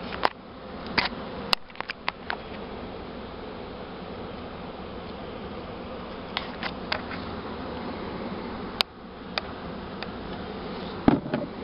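A swarm of honey bees fans its wings at a swarm box, a continuous close hum lasting the whole stretch, dotted with occasional sharp clicks and taps.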